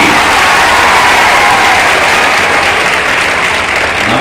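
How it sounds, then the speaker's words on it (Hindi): A large crowd at a college stadium inauguration breaks into loud, thunderous applause, dense sustained clapping at close range with faint cheering mixed in. "ऐसे महाराज जी खातिर को गड़गड़ा के ताली होने के चाहिए।"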